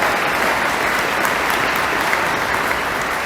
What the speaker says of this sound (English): Can we get a round of applause for PA?